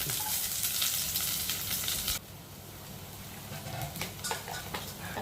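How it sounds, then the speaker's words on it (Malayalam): Mustard seeds and chopped shallots fry in oil in a kadai, giving a steady, loud sizzle with a sharper crackle early on that eases into a softer fry with scattered pops near the end. "അപ്പം എണ്ണ ഒഴിച്ചു കൊടുക്കാം. കടുക് ഇടാം. ചെറിയ ഉള്ളി അരിഞ്ഞതിടാം."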